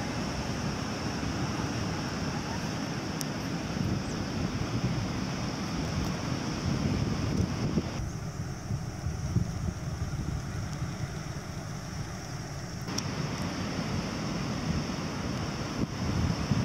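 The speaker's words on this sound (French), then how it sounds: "Bien agité la mer." Rough sea surf and gusting wind at Valras beach after floods, a continuous roaring wash of breaking waves with buffeting wind noise on the microphone, steady throughout with no voices.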